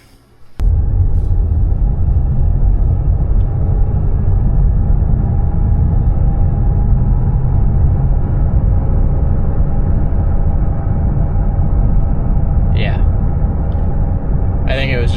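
A Chevrolet Malibu with a failing passenger-side wheel bearing on the road, giving a steady loud cabin drone and low rumble with a faint whine, heard from inside the moving car.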